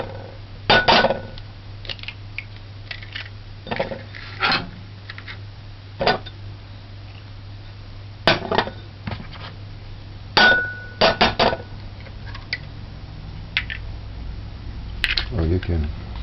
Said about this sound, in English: break your eggs in a separate container